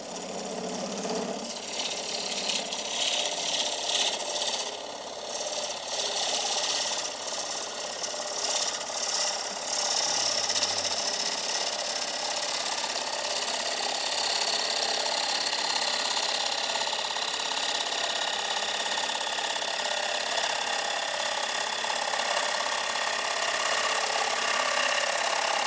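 Wood lathe turning a bowl blank as a dovetail recess is cut for a standard chuck jaw set, giving a steady, close scraping and rasping cut that runs continuously with no talk.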